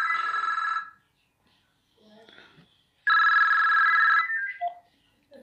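A telephone rings in two loud electronic bursts separated by a pause, with faint background sounds in between.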